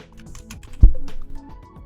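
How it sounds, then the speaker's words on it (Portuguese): Computer keyboard keys are pressed for Photoshop shortcuts, a few quick, close clicks with one firmer, louder keystroke in the middle and no talk. "Agora eu vou apertar F no teclado"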